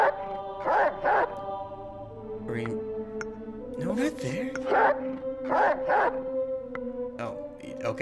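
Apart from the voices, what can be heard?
dog barking in the video game Reigns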